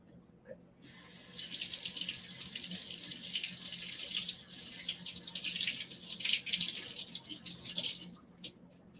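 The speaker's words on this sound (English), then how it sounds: "I'm going to rinse these really quick at the sink" Water from a kitchen sink tap runs steadily over produce being rinsed, a broad hiss that holds for several seconds before stopping, close and alone.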